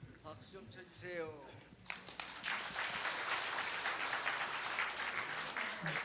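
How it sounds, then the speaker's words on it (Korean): Audience applause at a Buddhist book-launch dharma service, breaking out loud and sustained after someone speaks, a dense wash of clapping that fills the room for several seconds. "박수 좀 쳐주세요"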